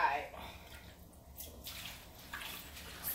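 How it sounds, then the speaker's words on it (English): Rinse water draining out of a sink of collard greens, an uneven splashing gush with drips that swells and fades, with some faint voice in the background. "I'm gonna let this water run out."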